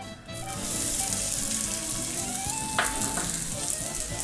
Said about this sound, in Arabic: دلوقتي هنعمل التقلية بتاعت الرز اهو. نص كوب زيت، البصلتين